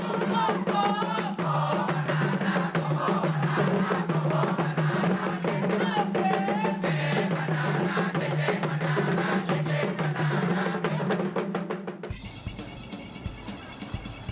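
A cheering squad formed for a Thai Robocon team chants steadily in unison over rhythmic percussion, loud and sustained, then shifts near the end into a harsher, noisier burst of sound.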